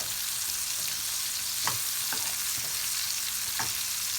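Peppers fry under a lid in a covered pan, giving a steady, close sizzle with a few brief stirring clicks and no voices.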